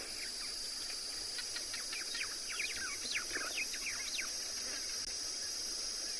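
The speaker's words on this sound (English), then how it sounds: "Can hear the white-browed sparrow weavers in the distance saying goodnight." Distant white-browed sparrow weavers chatter in a busy, overlapping series of short chirps over a steady high insect drone, fairly faint throughout, in the South African bush.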